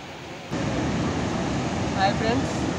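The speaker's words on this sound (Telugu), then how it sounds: "మీరు ఈ వాటర్ సౌండ్ అలా వింటూ ఎంజాయ్ చేయాలి" Water rushes steadily at the Lower Manair Dam in Karimnagar, a broad continuous roar that jumps louder after the first half second, with faint voices of visitors in the background.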